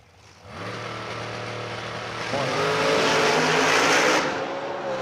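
Larry Mays' dragster 440 roaring loud and close at a drag race while the car runs into trouble, a rough sustained engine howl that swells midway and then drops away as the car pulls over, with no voices.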